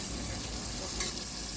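Boiled goat intestines fry and get stirred in a masala of onion and tomato, giving a steady, soft sizzle with faint scraping, alone and fairly quiet.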